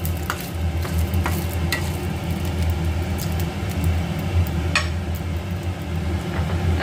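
Five-spice tempering (phoron) for Bengali mung dal cooked with rohu fish head crackles and sizzles steadily in a pan, a loud continuous frying hiss with occasional sharp pops and stirring.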